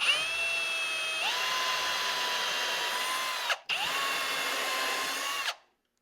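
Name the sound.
power drill boring into wood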